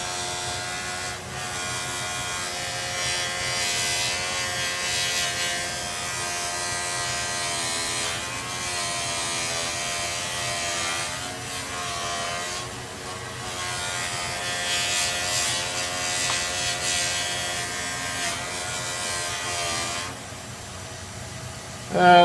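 A buffing wheel charged with diamond dust polishes a turned wooden tool knob, giving a steady high whirring hum with slight rubbing shifts that runs continuously for over twenty seconds before a brief bump at the end.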